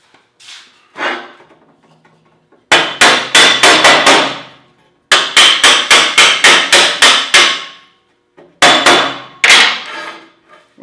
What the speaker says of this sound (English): I'm going to need my hammer.